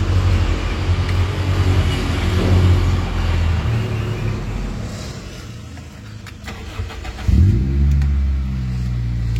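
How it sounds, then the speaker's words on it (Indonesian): A loud mechanical rumble fills the air, then a 2002 Toyota Altis engine cranks, catches and settles into a close, steady idle. "Nah ini sisanya kita hidupin mesinnya."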